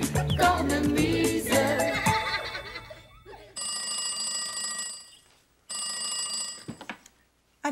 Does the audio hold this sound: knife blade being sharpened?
no